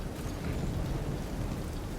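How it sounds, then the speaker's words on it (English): Rain falls in the video game The Division 2, a steady, dense hiss with a low rumble underneath, heard alone with no talking. "It's raining, which means there's probably weather cycles and stuff."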